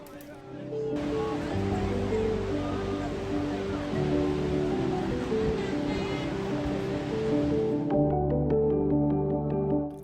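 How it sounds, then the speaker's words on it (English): Kegon Falls in Nikko, Japan, roars as a broad, steady wash of falling water that holds for most of the stretch before cutting off to quieter surroundings, with a voice talking over it. "Kegon Falls are considered one of Japan's 3 most beautiful waterfalls."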